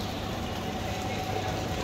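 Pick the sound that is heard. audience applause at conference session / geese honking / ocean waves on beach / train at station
train at station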